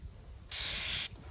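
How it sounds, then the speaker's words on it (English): Cleaner sprayed onto excavator swing motor parts during a Takeuchi TB1140 slew motor rebuild: a single steady hiss of about half a second, close and clear, between quieter workshop background. "So this one, a little spray"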